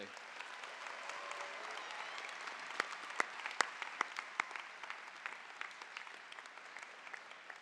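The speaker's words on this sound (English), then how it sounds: "They deserve, graduates, your unbelievable applause." A high school graduation crowd applauds the parents, steady distant clapping across a large audience with a few sharper, closer claps standing out.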